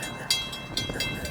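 An FEC freight train rolling past with a steady rumble and rhythmic wheel clicks on the rails, close and moderately loud, with no talking.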